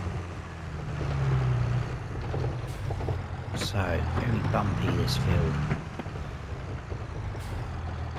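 An old tractor rumbles across a bumpy field in Farming Simulator 22, a steady low engine drone with rattling and clunking, while someone talks over it.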